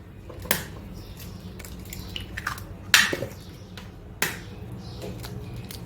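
Lemon poppyseed muffin batter mixed in a bowl, a few distinct clinks and taps of utensil on bowl spread over a soft, wet stirring background, close and fairly quiet, with no one talking.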